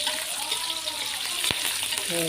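Spice paste of shallots and garlic sizzles in a pan for Betawi spicy-sour beef, a steady loud frying hiss broken by stirring scrapes and one sharp clack, with faint voices underneath.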